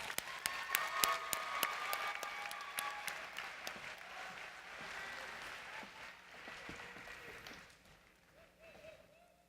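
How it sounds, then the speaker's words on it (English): Audience at a state convention applauds as advisors leave the stage, a dense wash of clapping with sharp individual claps up front that gradually thins and fades toward the end. "let's thank them for all their support with a round of applause"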